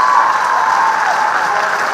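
Steady applause from a crowd greeting a chief minister at a public scheme inauguration in Rajasthan, a dense, even patter of many hands clapping alone for the full two seconds.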